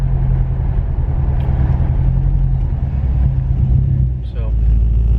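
A Hemi 5.7L engine rumbles steadily through a loud exhaust while the car is driven, heard from inside as a low droning tone that dips briefly near the end before settling again.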